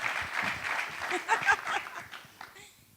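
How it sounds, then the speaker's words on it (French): Studio audience applause during a talk show taped in Kinshasa, a dense wash of clapping that swells and fades over a few seconds, with voices and a little laughter mixed in. "On peut l'applaudir"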